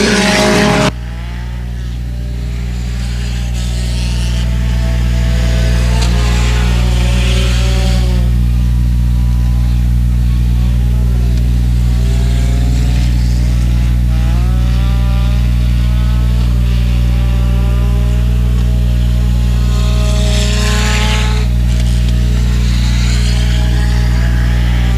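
Dirt track race cars howl around the oval at close range, a loud continuous engine roar with rising and falling revs as cars pass and accelerate, building and fading through the race.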